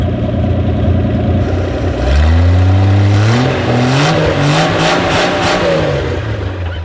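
Holden HG car engine with no exhaust fitted, loud and close, idling roughly before being revved hard in a rising surge, then blipped several times in quick bursts.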